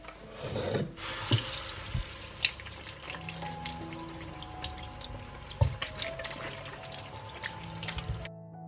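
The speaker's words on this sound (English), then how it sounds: "First, I'll wash the tomatoes." Running tap water splashes over tomatoes being washed in a sink, a steady close rush of water with intermittent splashes and clunks, no voices.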